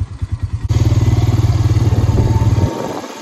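A four-wheeler ATV engine runs close by with a steady, loud putter that rises as it rides off, then cuts out near the end, with wind buffeting throughout.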